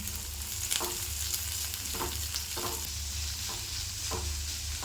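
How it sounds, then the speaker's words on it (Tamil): Onions and curry leaves fry in hot oil with a steady, soft sizzle, broken by about five scraping strokes of a spoon stirring the pan, heard up close with no talk. "வெங்காயத்தை சேர்த்துக்கிட்டு இப்படி கருவேப்பிலை அழகு சேர்த்து கலந்து விட்டுக்கலாம்"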